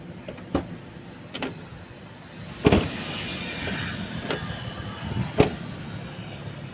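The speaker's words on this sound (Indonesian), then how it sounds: "Dia kalau kita tutup pintunya agak halus suaranya seperti ini." A car door fitted with a new B-shaped rubber seal shuts several times, each a soft, muffled thump spaced a second or two apart over a quiet background hum.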